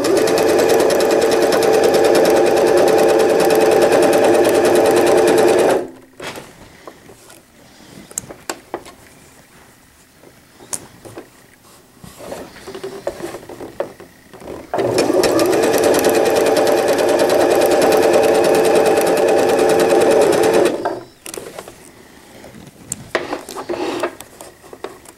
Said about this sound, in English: I'm holding it a little bit closer to my machine so I have more control. And just go right over top of it with your 3-step.